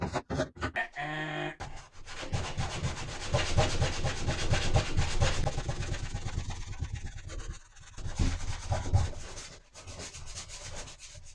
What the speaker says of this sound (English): just the good old fashioned way, bit of sandpaper in the fingers